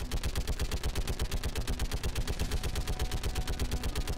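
Rapid automatic weapon fire from Mass Effect 3, a loud, steady stream of evenly spaced shots running unbroken the whole time with no talking.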